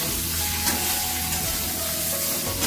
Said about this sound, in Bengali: ঝিঙেটা একটু ভেজে নিই, হাই ফ্লেমে ঝিঙেটা ভাজতে হবে